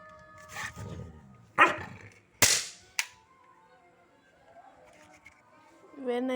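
A dog barks in an angry mood, firing off a few sharp, loud, close barks spaced irregularly apart, with quieter growling and rumbling sounds between them.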